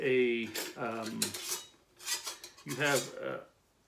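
A stainless steel canteen and nested cooking pot clink and scrape as they are handled, with a few bright metallic rings and rubbing rasps close up in otherwise quiet surroundings.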